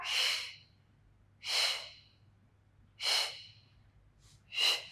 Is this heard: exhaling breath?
yes